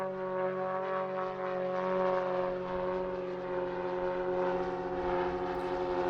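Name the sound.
propeller aircraft flying in airshow display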